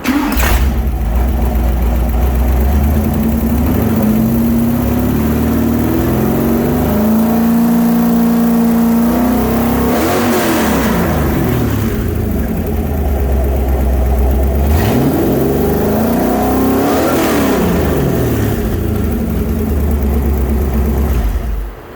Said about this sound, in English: I'll fire it up again